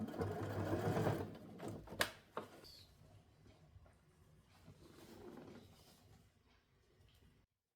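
A sewing machine stitches silk corset side pieces together in short bursts, loud at first, then lighter and quieter runs with clicks between them.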